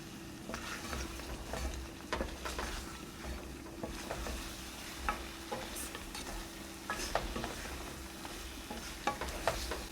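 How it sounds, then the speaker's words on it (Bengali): Kashmiri chili powder, ginger powder and cumin sautéing for mutton rogan josh, a soft steady sizzle with repeated scraping and stirring strokes of a spoon in the pan. "1 টেবিল চামচ কাশ্মীরি লঙ্কা গুঁড়ো, 1 চা চামচের একটু বেশি আদা পাউডার ও হাফ চা চামচ জিরে গুঁড়ো দিয়ে 2 মিনিট কষব"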